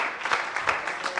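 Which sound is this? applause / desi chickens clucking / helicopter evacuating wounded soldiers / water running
applause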